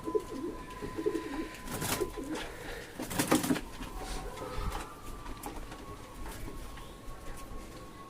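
Pigeons of a foreign long-flying breed coo softly in a loft at a home, with low repeated calls and faint rustling. The sound is steady and quiet throughout, with no voices.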